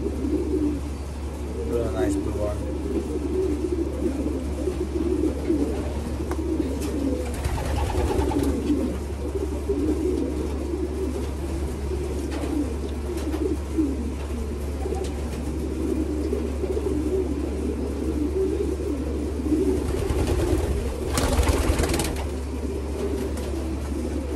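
Racing pigeons cooing in a loft, soft repeated coos over a steady low hum, with brief fluttering and movement noises near the end.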